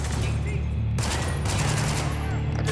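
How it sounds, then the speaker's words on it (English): Rapid bursts of gunfire from the video game Spec Ops: The Line, dense and continuous with a low booming rumble underneath, filling the whole short stretch. "I just shot through a rock."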